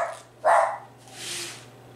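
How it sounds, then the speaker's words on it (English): A dog gives a single short bark indoors, followed by a softer breathy whine or growl, fairly close and heard alone against a low hum. "Hush, pup-pups."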